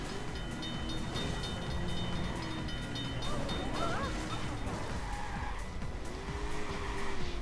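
In the video game Watch Dogs, a car skids with drawn-out tire squeals that rise and bend in pitch over a constant engine roar and game noise, moderately loud throughout.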